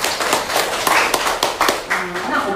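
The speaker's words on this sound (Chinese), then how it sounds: "我们给自己掌声鼓励一下" An audience at a motivational seminar claps together in a dense burst of applause with sharp individual claps throughout, fairly close and steady, with no talking over it.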